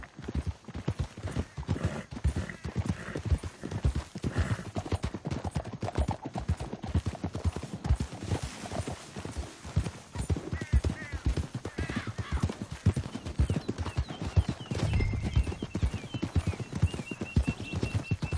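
Horses trotting in the video game Red Dead Redemption 2, a dense, continuous, rhythmic clip-clop of hooves from several animals, close and steady, with occasional faint voices and a brief whinny.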